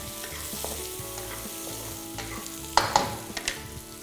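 Bell peppers and onion stir-fried over high heat with fermented black beans, a dense steady sizzle with scraping stirs and a few sharper clatters of the utensil toward the end.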